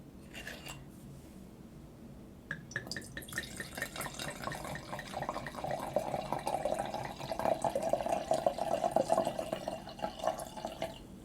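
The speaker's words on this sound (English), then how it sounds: "let me pour myself a glass of rosé" Rosé wine pours into a glass after a few small clinks, a close, gurgling stream that gradually rises and fills, with no talking.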